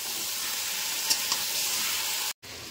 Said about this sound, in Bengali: এখন চিকেনটা দিয়ে দিলাম। এখন এই চিকেনটা দিয়ে ভালো করে কষাবো।